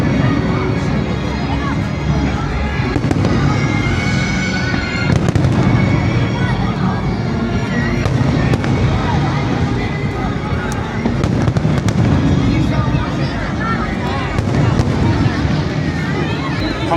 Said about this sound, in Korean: 저 폭죽 터트리는 거 보고